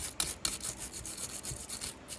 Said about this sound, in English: For this, I'm going to use a plastic brush.